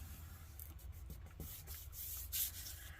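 Dry, scratchy rubbing as a finger works excess glue off the edges of a handmade journal page, with short strokes that pick up toward the end, close and soft.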